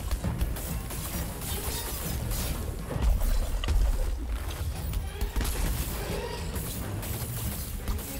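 A chain-blades slam attack explodes in Dauntless, a heavy booming crash rising over a dense, continuous din of game combat noise and effects.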